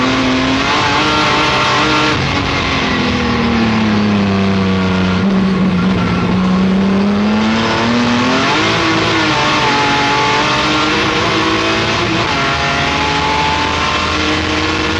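A Jaguar D-type racing car at Goodwood roars at full throttle, its engine note loud and close, rising and falling steadily through gear changes and corners with no pauses.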